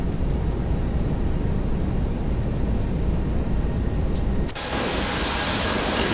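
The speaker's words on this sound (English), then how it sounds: "This airplane is rocking in that wind. It is still gusting up to 30 knots." An Airbus A321neo airliner flies on approach in gusty wind in X-Plane 11: a steady, dense engine and airflow roar that briefly dips and then shifts tone near the end, with no talk.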